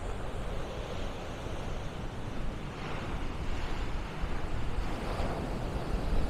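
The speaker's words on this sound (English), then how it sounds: "Sound of the sea." Sea waves wash on the shore at Beadnell in a steady, faint broadband surf hiss, mixed with wind buffeting the microphone and a few soft swells of breaking water.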